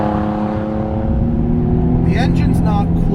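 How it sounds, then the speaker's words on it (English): Infiniti G35 Coupe engine and exhaust while driving, a steady low drone with a harmonic exhaust tone underneath continuous talk throughout. "But I love the tone of the exhaust these cars make."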